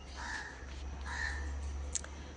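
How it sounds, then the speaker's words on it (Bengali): Crows perched on a rooftop give two drawn-out caws, fairly distant, over a steady low hum, followed by a brief sharp click. "ওই দেখো ওদের ছাদে কাক ডাকছে,"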